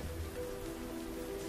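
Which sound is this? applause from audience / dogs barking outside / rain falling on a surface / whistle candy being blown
rain falling on a surface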